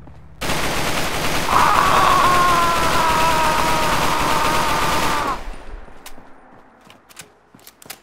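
A heavy machine gun sound effect from a Fallout 4 mod fires one loud, continuous roaring burst lasting about five seconds, then cuts off into a short fading tail and a few faint clicks.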